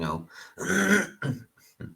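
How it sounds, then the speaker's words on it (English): A few throat-clearing coughs, close and fairly loud, in short bursts with brief pauses between them. "My apologies for the cough."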